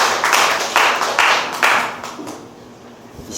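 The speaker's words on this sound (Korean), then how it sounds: "우리 뜨거운 박수로 하나님을 축복하며 가겠습니다" A church congregation claps together at a founding thanksgiving service, a short burst of rhythmic, somewhat distant applause in four pulses that fades out within three seconds.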